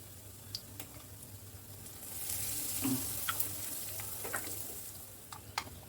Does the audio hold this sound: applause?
no